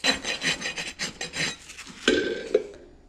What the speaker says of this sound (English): we could come in with our rasp and just clean that up just ever so much